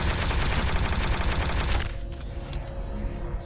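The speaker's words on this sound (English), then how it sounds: "Proton cannon." Iron Man's proton cannon fires in the Marvel vs. Capcom fighting game, a dense, loud roaring barrage of rapid blasts that cuts off abruptly after about two seconds, leaving a fainter rumbling tail.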